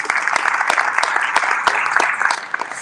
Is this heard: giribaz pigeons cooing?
no